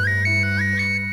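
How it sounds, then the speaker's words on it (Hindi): A mobile phone ringtone plays loudly and steadily on its own, a repeating electronic melody with sustained low tones, during a Hindi television crime drama scene. "Just my phone is ringing."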